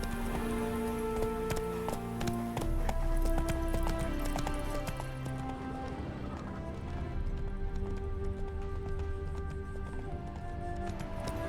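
Steady rhythmic clip-clop of a horse galloping over ground in the video game The Witcher 3, continuous and close, with a background game score running underneath.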